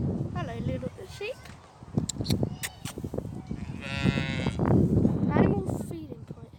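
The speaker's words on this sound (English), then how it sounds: "And look at all these cows." Cows and sheep on a farm, with low moos and bleats mixed under close chatter and steady wind noise.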